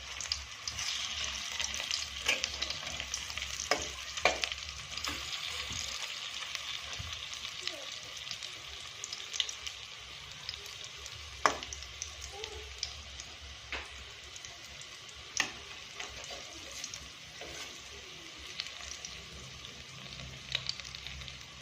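Pakoras sizzle in hot oil after being flipped, a soft continuous crackle and hiss running for a long stretch, dotted with scattered pops and light clicks of a utensil.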